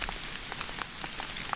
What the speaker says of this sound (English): Let's see what this hail does.